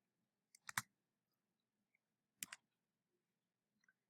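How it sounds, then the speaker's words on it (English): Spacebar key on a computer keyboard pressed while entering records, two crisp isolated clicks about two seconds apart in a quiet room, with a faint tick near the end. "press the spacebar to check it"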